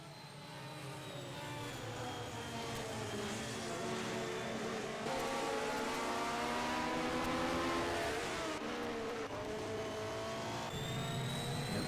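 Racing cars with Cosworth DFV and other engines lap a circuit at the 1971 Race of Champions, a steady loud engine drone that swells and shifts pitch as cars pass, continuous throughout with no talk.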